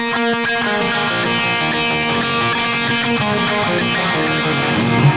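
The intro to a song is played on a distorted electric guitar with the delay effect left on. Repeating echoes pile up into a dense, loud, smeared wash of sustained notes, and no one speaks.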